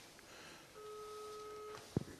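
A telephone ringback tone sounds while dialing a number for the municipal police in Cagliari, Italy: one steady, moderately loud two-pitch tone that holds for about a second, followed by a brief low thump, over faint room noise.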